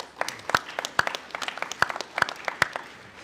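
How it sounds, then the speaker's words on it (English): Scattered applause for interns at a police commissioners meeting, with a few distinct close claps standing out over thinner clapping in a meeting room. "Give them a round of applause."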